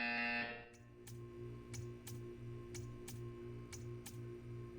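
Buzzer in the video game Portal 2 sounding in an art-staring test chamber, a regular series of short electronic pulses with sharp clicks over a steady low hum, following a brief tone at the start.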